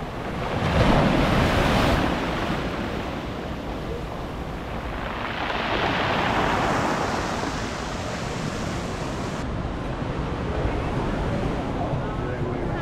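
Sea waves surging and breaking on the beach at Marina di Praia on the Amalfi coast, a continuous loud wash of surf with wind buffeting the microphone and a swell of louder breakers midway.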